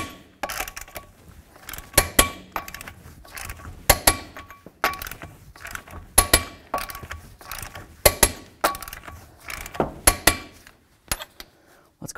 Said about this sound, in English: we can torque our axle nut to 188 foot-pounds